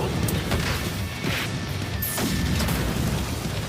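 An explosion in a One Punch Man Season 3 anime episode, loud crashing and booming impacts with whooshes layered over a dense, continuous noisy bed, no talk.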